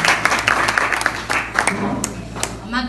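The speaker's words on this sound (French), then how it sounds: "Sous vos applaudissements, s'il vous plaît." Warm audience applause at a beauty school graduation and certificate ceremony, sustained clapping from a crowd with a few sharp louder claps near the end.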